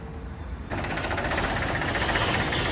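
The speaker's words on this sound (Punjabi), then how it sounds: "ਲੋ ਬਾਈ ਆਵਾਜ਼ ਕਰ ਲਓ ਚੈੱਕ ਟਰੈਕਟਰ ਦੀ ਠੀਕ ਹੈ ਜੀ ਇੰਜਣ ਐਨ ਵਧੀਆ ਪਿਆ ਟਰੈਕਟਰ ਦਾ" A Swaraj 735 tractor engine runs after a short quiet lead-in, then settles into a steady, close, rattling diesel chug with no talking.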